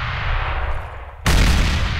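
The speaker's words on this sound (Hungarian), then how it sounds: "Tehát ez egy ekkorát robban" A grenade detonates in a modded CS:GO match, a sudden loud boom cutting across steady ongoing game noise and lingering as a dense, rumbling roar.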